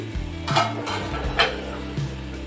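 Sago upma with vegetable pieces, salt and spices being mixed in a pan, a few soft scrapes and clinks of a spoon against metal over a low steady background hum.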